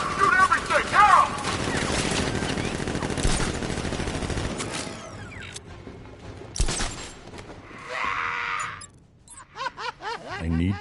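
Guards open fire in the video game Batman: Arkham Knight, with loud bursts of automatic gunfire and scattered shots sustained over several seconds, then tapering into sporadic cracks amid game sound effects.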